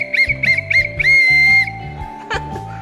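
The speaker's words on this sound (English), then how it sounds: "And a whistle." A bright whistle gives three short toots followed by one longer blast, loud and close, over a deep honking, animated background tone with a cartoon feel, and a faint rising squeak near the end.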